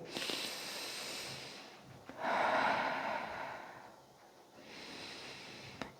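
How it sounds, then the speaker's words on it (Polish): Slow diaphragmatic breathing, close and soft: long airy inhales and exhales rise and fall in broad waves, with one fuller, louder breath in the middle. "jak oddychasz przeponą, i w ten sposób sobie oddychasz w ręce"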